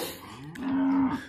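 A cow in a herd being sorted for pregnancy checking gives a single short low moo, close and clear, with faint ambient noise and no talking.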